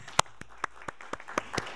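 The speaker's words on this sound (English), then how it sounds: "If I may ask for a round of applause for my panelists" Sparse applause from a small audience for panelists at a COP climate conference session, a handful of separate sharp claps spaced irregularly, fairly close and modest in volume.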